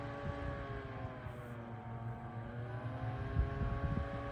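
A Primevolve portable rechargeable folding fan runs in natural wind mode, giving a steady close-up motor hum with layered tonal whirring and soft airy rush, continuous throughout with slight swells in level.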